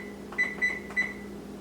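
Three short electronic beeps come from an oven's control panel as it is set to preheat to 400 degrees, evenly spaced and fairly faint over a low steady hum.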